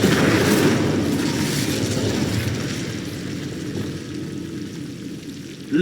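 Incendio fire spell blasting in Hogwarts Legacy, a loud booming, roaring burst of flame that slowly fades into a rumbling tail, with no voices.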